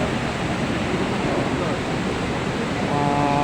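Floodwater rushing down from upstream makes a loud, unbroken roar of churning water that fills the whole scene without pause.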